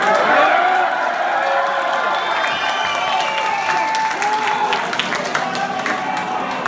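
Concert crowd at a show in Dublin's Olympia Theatre applauding and cheering, a loud, dense wash of clapping and shouts that fills the whole stretch and eases slightly toward the end.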